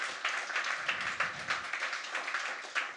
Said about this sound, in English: Please give a round of applause to the marvellous Mark Rutterford for his hosting this evening.